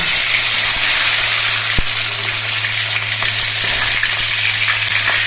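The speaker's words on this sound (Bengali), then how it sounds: "এবার এই মোচার পিসগুলো আমি তেলের মধ্যে দিয়ে দিচ্ছি" Banana flower pieces fry in hot mustard oil in a wok, giving a loud, steady, close sizzle that runs unbroken throughout with no talking.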